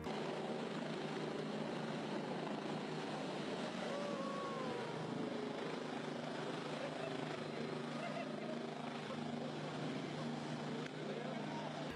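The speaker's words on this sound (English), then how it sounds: "Bell 429 helicopter's strong downwash makes a mess." A Bell 429 helicopter hovering with strong rotor downwash, a constant loud roar and rushing wind that holds steady throughout, with no pauses.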